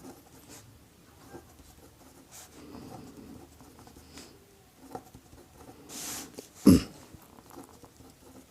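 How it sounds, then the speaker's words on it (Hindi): A pen writes on paper in faint, soft scratching strokes that come and go, with a louder tap or thump near the end. "जो चीज़ बोला है वो हम लिख लेते हैं।"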